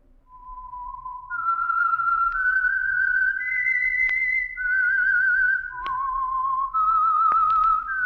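A solo whistled theme tune from The Whistler mystery radio show, a clear, steady melody of sustained, slightly wavering notes rising and falling in phrases, played alone against faint background hiss.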